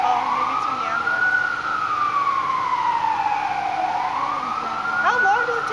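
Ambulance siren wailing in a slow rising and falling sweep, loud and steady throughout, with a second sweep beginning near the end.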